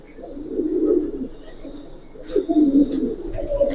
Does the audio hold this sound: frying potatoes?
no